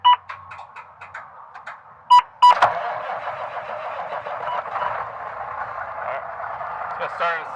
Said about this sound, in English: Gotta start it up every couple of days to make sure the batteries can recharge.